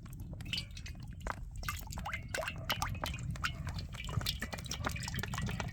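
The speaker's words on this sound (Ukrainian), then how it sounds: "Наливаємо в казан чуть-чуть олійчику" Cooking oil poured into a kazan over a fire, a faint liquid trickle and scattered drips amid outdoor background noise, no talking.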